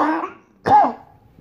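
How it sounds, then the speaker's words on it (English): A single harsh cough bursts out near and loud after a faint rasping breath, from a person with an irritated, swelling throat, then trails off into quiet. "I can't stop coughing."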